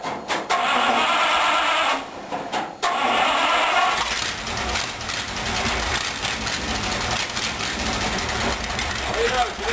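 A hot rod engine cranks and catches, running roughly close by with a loud, steady rumble after a couple of brief stops at the start.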